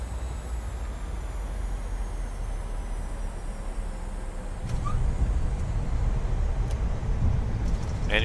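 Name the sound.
airliner landing rollout and braking in a flight simulator game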